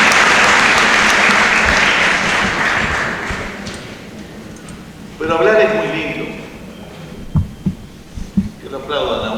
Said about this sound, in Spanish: Que lo aplaudan a uno es lindo también, senador Rodríguez.